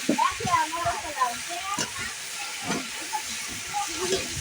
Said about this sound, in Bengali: এটাকে একটু কষায় পানি ছাড়া একটু কষানো হইতেছে তেলের উপরে